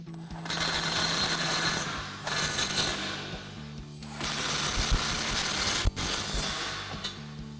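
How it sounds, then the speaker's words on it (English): An impact wrench with a 15 mm socket tightening 17 mm bolts on a Rough Country nudge bar fitted to a 2021-2023 Ford Bronco, sounding as two long buzzing rattling runs separated by short pauses, close and loud. "tighten down our bolts using our 15 millimeter socket on our impact and a 17 millimeter wrench for our bolts"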